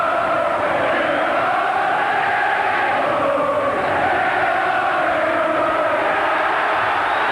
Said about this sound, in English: The crowd trying to urge Collins through this last half a minute